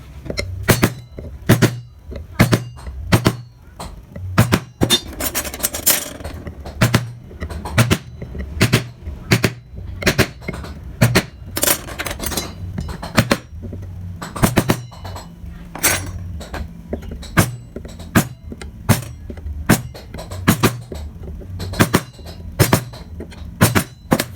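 A chisel knocked through wood during a fast wood-carving job, giving a steady run of sharp, close taps at an even rhythm with brief scraping in between, heard alone without any voices.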